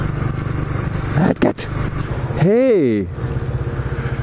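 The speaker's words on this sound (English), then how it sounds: "first motorcycle I've seen all winter" A motorcycle passes close by in winter, its engine note swelling and then dropping away over about a second against steady wind and road noise, with someone talking briefly before it goes by.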